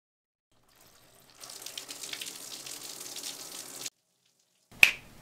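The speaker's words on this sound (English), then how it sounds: "And now I'm gonna go shower." Shower water running for a few seconds as a steady broadband hiss, then cutting off abruptly, followed by a single sharp click or snap near the end.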